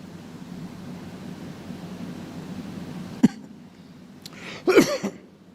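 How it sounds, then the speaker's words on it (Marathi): A single sharp dry cough rings out, followed about a second and a half later by a short cluster of rougher coughing bursts, close against a faint background hiss. "कोरडा खोकला आहे, काही गैरसमज करून घेऊ नका"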